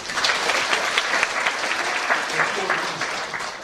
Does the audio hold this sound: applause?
yes